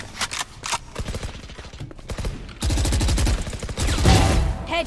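Rapid gunfire in the tactical shooter Valorant crackles in quick rhythmic volleys, growing louder and denser midway through, ending in a brief final exchange.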